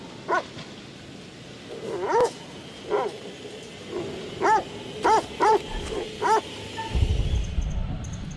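A dog in the horror video game The Devil in Me lets out a series of short, sharp barks and yips at irregular intervals, fairly close, ending with a low rumble.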